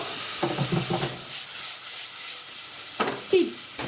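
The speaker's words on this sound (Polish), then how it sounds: "I wrzucamy nasze warzywa do znakomitego oleju" Vegetables sizzle in a little oil in a pan, a steady close frying hiss broken by short stirring scrapes and knocks near the start and end, with no speech.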